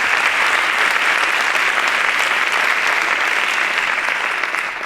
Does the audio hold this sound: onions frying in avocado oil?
no